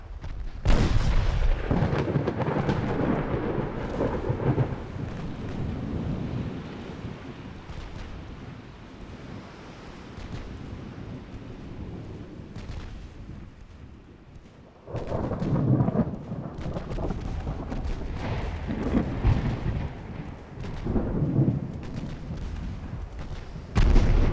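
Naval 4-inch guns firing in the naval strategy game UAD DIP, a 1913 French campaign battle, heard as repeated deep booming blasts with rumbling tails, some overlapping, separated by a quieter stretch of low rumble.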